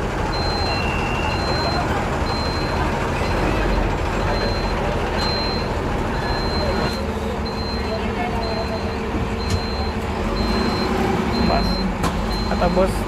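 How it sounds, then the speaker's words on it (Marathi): A bus pulls away with a loud, steady engine rumble and road noise, a repeating high beep running throughout, and a brief air-brake hiss among the traffic sounds. "बस निघाली"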